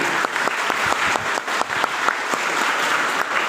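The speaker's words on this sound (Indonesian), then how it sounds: "Sekali lagi tepuk tangan for Tuhan." A church congregation at a Christmas service applauds together, a dense, steady wash of claps with sharper individual hand strikes popping out near and clear throughout.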